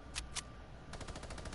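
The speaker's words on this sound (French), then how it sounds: "J'entends des tirs, mais je sais pas c'est qui." Fortnite gunfire: two quick sharp shots, then a rapid burst of automatic fire, all somewhat distant and faint.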